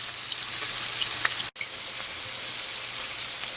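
Meatballs frying in a pan over medium-high heat, giving a steady, close hiss and crackle of sizzling oil throughout, with one brief dropout in the middle.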